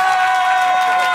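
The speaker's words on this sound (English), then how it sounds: "Please clap now." An audience at an improv show cheers and applauds, a dense continuous wash of crowd noise with a tonal whistle-like line on top, loud and close for a brief moment.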